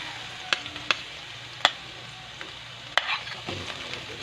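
Garlic fries in oil with a soft, steady sizzle, punctuated by a few sharp clicks and scrapes of a spatula stirring the pan, close and without talk.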